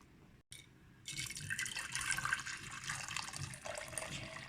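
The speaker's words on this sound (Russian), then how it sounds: "Я наливаю горячую воду." Hot water, about 70 degrees and not boiled, poured steadily into a teapot from close by, a continuous splashing gurgle that starts after a brief pause and keeps flowing to the end.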